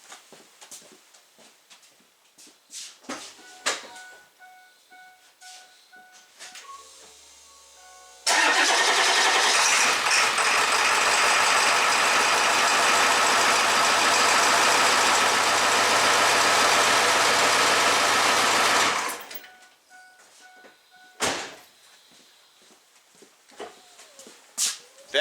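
A Ford Excursion that previously would not start cranks and fires, then holds a loud, steady idle for about ten seconds before shutting off, with quieter sounds and clatter before and after.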